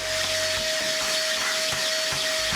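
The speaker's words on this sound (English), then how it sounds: "You're gonna wanna use a vacuum slicer instead." Vacuum slicer running during healthy meal prep, a steady loud hiss and whir with a constant tonal hum, continuous for a few seconds with no talk over it.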